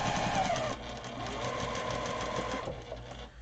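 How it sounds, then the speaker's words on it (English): Sewing machine stitching quilt fabric, a steady rapid mechanical whir and clatter running throughout at close range, fairly quiet and alone. "So you just line it up there, and sew away."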